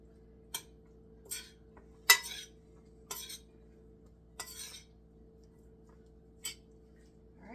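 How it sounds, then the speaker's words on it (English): Bow tie pasta being mixed with cheese: quiet, sparse clinks and scrapes of a utensil against a pot or bowl, about six short strokes spaced out over a faint steady hum. "let me mix this up with the cheese"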